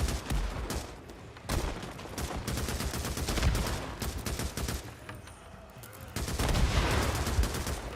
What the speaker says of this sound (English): Love the little rock sounds that they put into the explosions